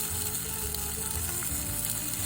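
Salt pork frying in its own fat in a pan, a steady close sizzle with crackling pops throughout and no voice over it.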